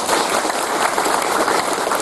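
Loud, dense applause from a crowd at a Telek dance welcoming a politician in Bali, continuous clapping filling the whole moment, with no voices.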